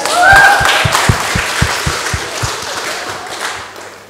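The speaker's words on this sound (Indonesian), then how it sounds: "Tepuk tangan dulu dong ya." Audience applause at a talk show, a burst of many hands clapping that swells at the start and then thins into steady, fading claps over a few seconds.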